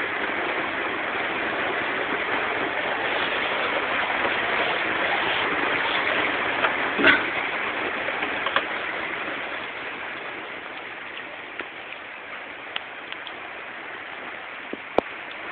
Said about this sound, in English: I don't know if you can see this rain, but this is weird. It's coming down hard.